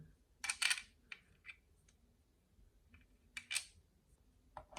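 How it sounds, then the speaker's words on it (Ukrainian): Small screws are driven into the cover of a GMKtec K11 Ryzen mini PC, producing faint, close clicks and short scraping bursts in irregular clusters against a quiet background. "Закриваємо кришку, закручуємо наші гвинти."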